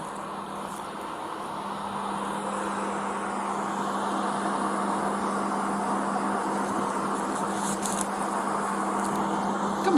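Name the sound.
road traffic on the other side of the road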